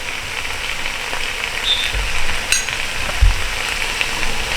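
Onions sautéing with ginger garlic paste and salt over a medium flame for chicken biryani, a soft continuous sizzle with occasional low knocks and stirring thuds, no voices.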